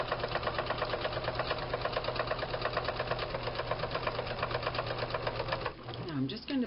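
A sewing machine runs steadily in a fast, even rhythm while back stitching on a small fabric Easter basket project, then stops near the end as a voice briefly speaks.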